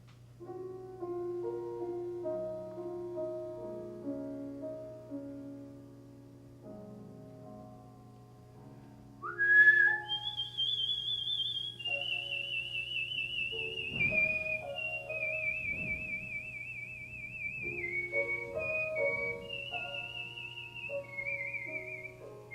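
A lone whistler performs Clair de Lune, a slow melody with sustained, wavering notes that climb to a high, clear passage midway, heard close and solo over a faint steady hum.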